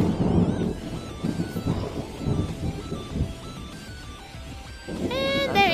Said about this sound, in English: Chaotic Lightning Strike, times 10!